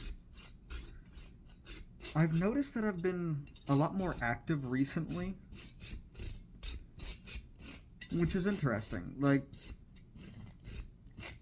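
Metal being worked by hand with a rasp or saw to reshape a walking stick handle that doubles as a medieval battle hammer, rhythmic scraping strokes repeating steadily under someone talking.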